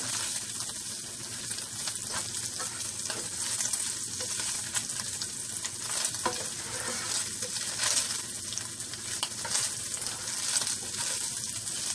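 Bacon and onion fry in a pan, a steady, close sizzle with crackling pops running evenly throughout, no voices over it.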